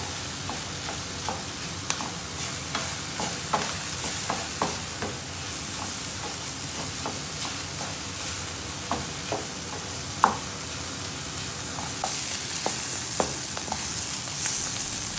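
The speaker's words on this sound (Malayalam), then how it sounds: "2 മിനിറ്റും കൂടി ഒന്ന് ഇളക്കി കൊടുത്താൽ മതി." Prawn filling for spring rolls fries in a pan while being stirred, a continuous close sizzle punctuated by frequent sharp spoon scrapes and taps against the pan, with no talk.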